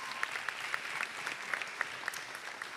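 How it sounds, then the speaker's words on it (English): Audience applause fills a hall at the Miss Virginia Volunteer 2025 pageant finals night, a steady dense patter of many hands with a few sharper individual claps standing out, sustained and fairly loud throughout. "Give them a big round of applause."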